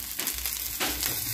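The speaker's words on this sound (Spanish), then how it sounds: "ya se está friendo el pollo" Chicken frying in a little oil gives a steady, loud, close sizzle and crackle that carries on without a break and never fades, with no talking heard over it.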